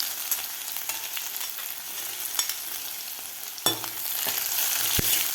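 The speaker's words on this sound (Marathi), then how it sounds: "आता लसूणसुद्धा आपल्याला व्यवस्थित फ्राय करून घ्यायचं आहे." Crushed garlic sizzling in hot oil with cumin, a steady faint crackle broken by occasional sharp clinks of a spoon against the pan, with no voices.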